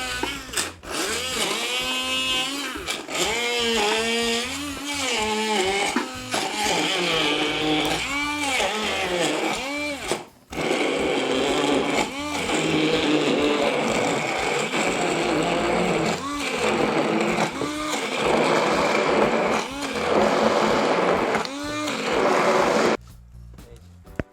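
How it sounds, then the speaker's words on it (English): Electric blender whirring through vegetables for jollof rice, a loud continuous motor roar with shifting pitch as the contents churn, running for over twenty seconds before cutting off abruptly. "Vegetables, I'm going to blend them."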